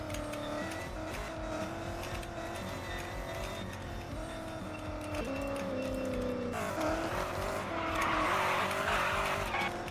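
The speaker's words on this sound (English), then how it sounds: "Hear the tires screeching." Jeep Trackhawk tires squeal and skid on a race track over a roaring, revving engine with a high supercharger whine, loud and continuous throughout.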